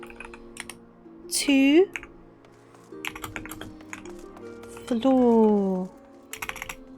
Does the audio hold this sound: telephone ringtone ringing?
no